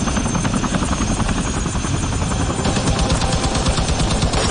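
Loud, dense roar of three helicopters' rotors with rapid bursts of gunfire rattling through it, in a scene from the movie Baaghi 3, steady and intense throughout.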